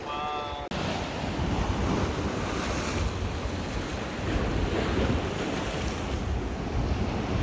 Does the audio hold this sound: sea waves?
yes